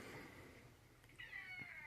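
A pet cat meows once indoors, a short rising cry near the end over a quiet room hum, with no speech.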